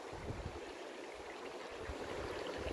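Creek flowing beside a canyon campsite, a steady, faint broadband rush of water with some wind noise on the microphone.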